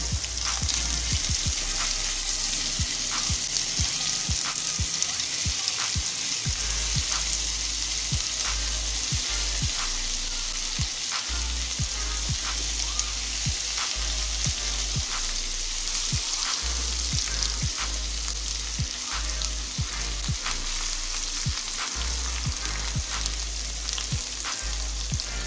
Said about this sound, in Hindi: हल्का हल्का चम्मच हिलाते जाएंगे और इसको आहिस्ता आहिस्ता फ्राई करेंगे